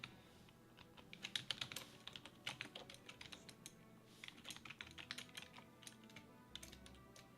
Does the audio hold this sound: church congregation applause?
no